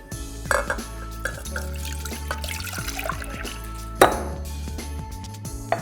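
Milk pours into a kitchen vessel for a custard base, a close trickling and splashing liquid sound with faint clinks of glass or dishware.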